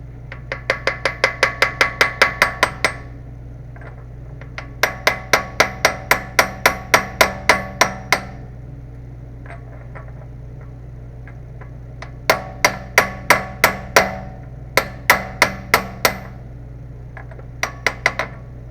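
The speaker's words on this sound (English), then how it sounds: "And go gently, gently, tappy, tappy." Light hammer taps driving a bronze part into the crankshaft of a '71 Challenger during a Tremec TKX 5-speed manual swap: quick bursts of sharp metallic ringing taps in rapid series, separated by short pauses, alone over a low hum.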